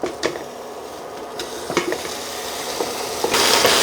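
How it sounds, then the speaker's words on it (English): Pieces of pork belly, about 2.5 pounds in total, sizzle and fry in a pot while being stirred, with scraping clinks of a utensil against the pot and a loud burst of sizzling near the end. "now I'm going to put it in a pot and kind of brown it a little bit"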